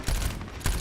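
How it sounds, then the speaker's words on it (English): Hitscan weapon fire in a shooter video game: two quick bursts of rattling shots, close and fairly loud, with a brief lull between them. "my weapon is a hit scan, so the bullets are instantaneous"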